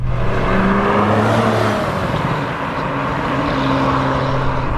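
A Porsche 911 991 GTS drives at low revs in an easy cruise, its steady engine drone loud and close, with the pitch shifting gently as it pulls along without talk.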